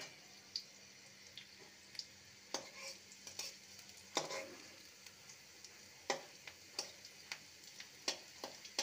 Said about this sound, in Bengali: লঙ্কাটাকে ভেজে নেব